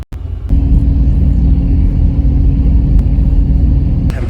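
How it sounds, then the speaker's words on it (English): Inside a minibus driving toward the centre of Pondicherry, India, a loud, steady low engine rumble fills the cabin, with a few faint clicks over it and no voices. "we basically just switched from the big bus to a little mini bus, which is hopefully going to take us into the centre of Pondicherry"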